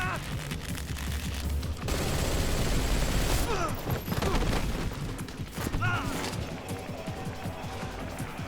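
Dense, continuous gunfire in Metal Gear Solid Snake Eater, loud and close, layered with mechanical clatter and mixed battle noise, with shouted voices partly underneath.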